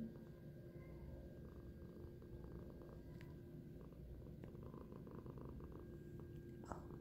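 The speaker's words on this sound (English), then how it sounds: "He's just purring up a storm." A contented cat purrs steadily and softly throughout, a low continuous rumble with no talking, recorded indoors in Guanajuato while rain falls outside.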